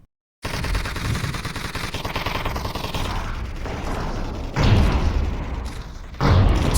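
Rapid-fire explosions and gunfire in a VRChat tower defense game, a dense continuous barrage with heavier booming bursts near the end, loud and close.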